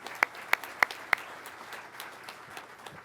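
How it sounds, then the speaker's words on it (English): An audience at a pilot training graduation claps for aircraft maintainers: a few loud, distinct claps ring out one by one, followed by thinner scattered clapping from the crowd. "Please, a round of applause for the maintainers"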